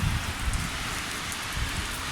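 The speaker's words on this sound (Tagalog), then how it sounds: "umulan na hanggang ngayon walang tigil" Heavy, steady rain pours down without pause in cold, windy weather near a road with vehicles, a dense continuous hiss with low rumbling undertones and no voices.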